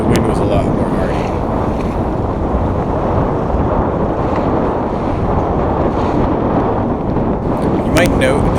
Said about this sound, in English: once we got to the other side of the lake, the wind was a lot more hardy.